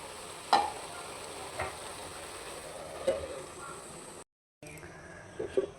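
Prawn chachchari curry cooking down in a pan until its small amount of gravy dries out. A faint, steady sizzle plays with a few light spoon taps, and the sound briefly cuts out before the simmering hiss returns.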